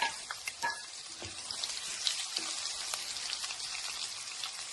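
Curry leaves dropped into hot oil for a ridge gourd and raw lentil curry, giving a steady, dense sizzle and crackle close by with small pops scattered through it.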